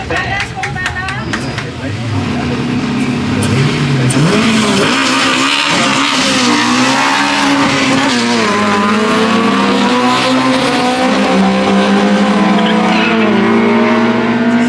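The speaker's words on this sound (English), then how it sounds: "Tons of wheel slip on the CRX, but he's pushing hard there." A Honda CRX launches down a drag strip, its four-cylinder engine rising through the revs with tire squeal from wheel slip, loud and close, while a commentator talks over it.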